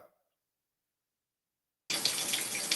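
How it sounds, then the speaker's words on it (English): Water from a tap splashes into a sink during dishwashing. The flow starts abruptly after near silence and then runs steadily and close. "I'm washing dishes right now"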